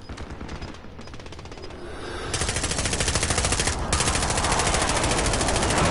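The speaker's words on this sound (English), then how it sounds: "They're shooting us from everywhere, boys." Rapid automatic gunfire in a multiplayer shooter game rattles in dense bursts, growing louder and more continuous after a couple of seconds and barely pausing.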